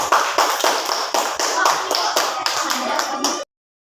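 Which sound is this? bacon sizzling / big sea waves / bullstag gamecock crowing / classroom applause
classroom applause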